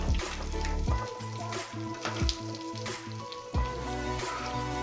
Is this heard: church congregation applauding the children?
no